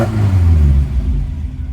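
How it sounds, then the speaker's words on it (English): A 1972 Ford Escort Mexico with a lumpy cam revs close by, its deep uneven engine rumble rising and then easing back toward a loping idle. "It is a lumpy engine, lumpy cam in it."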